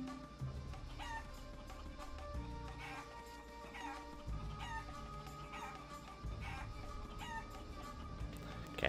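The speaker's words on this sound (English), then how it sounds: "watch for when he squawks and then follow him that way" Repeated squawks and clucks from a chicken in the Guacamelee video game's shell game, sounding at intervals over steady game music, with no talking.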